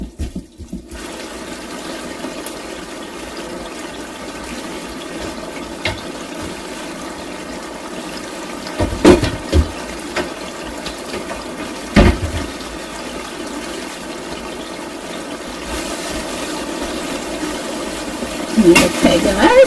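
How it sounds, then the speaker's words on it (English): Water rushing into a cooking pot for spaghetti noodles in a home kitchen, a steady loud pouring hiss that swells in bursts, with some clattering near the end. "we're going to go ahead and put our pot of water on for our noodles."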